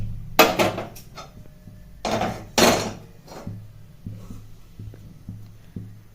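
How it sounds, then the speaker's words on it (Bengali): A Bengali home kitchen, where a gas stove is lit and a metal wok is set on it, giving a few sharp clanks and knocks of metal on the burner between quieter gaps and a faint hum, with no talking. "বন্ধুরা দেখো মা গ্যাস জেলে কড়াই বসিয়ে দেবে"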